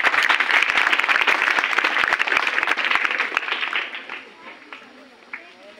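Loud, dense applause from a school audience honouring a guest from the education department, a steady wash of many hands clapping for about four seconds before thinning out into scattered claps.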